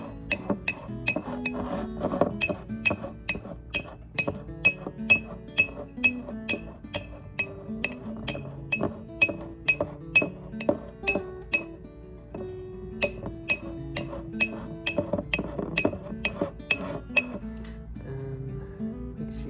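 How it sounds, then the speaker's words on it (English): A spoon scrapes and taps against the sides of a glass sourdough starter jar, making a rapid, rhythmic series of bright clinks that continues almost without pause, close and clear. "I'm gonna scrape down the sides"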